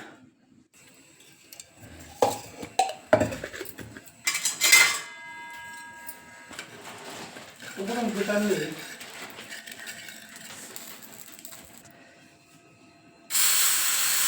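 A tawa griddle is set down on a kitchen stove with several loud metallic clanks close by. Quieter handling and a voice follow, and a sharp hiss starts near the end.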